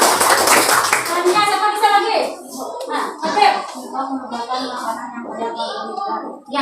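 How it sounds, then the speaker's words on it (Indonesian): Schoolchildren clap their hands together in a classroom, a brief burst of dense applause near the start that fades as children's and a teacher's voices continue talking. "Ya, tepuk tangan Mas Suja."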